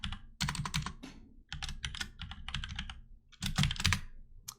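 Fingers type steadily on a computer keyboard, close and clear, in quick clattering runs of keystrokes broken by brief pauses, with no talking.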